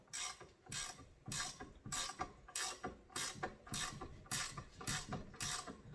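A fine-threaded fitting is wrenched onto a hydraulic steering hose, giving a steady series of ratcheting clicks about twice a second, close and moderately loud, with no talking.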